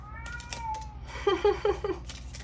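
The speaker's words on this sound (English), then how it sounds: "There's my cat." A house cat meows in a short run of four quick calls, close and fairly loud, over a steady low background hum.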